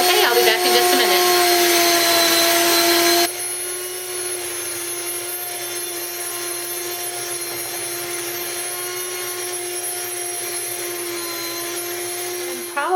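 Steady, loud motor whine of an electric grain mill grinding grain into bread flour, louder and brighter at first, then settling into a constant tonal hum that continues to the end.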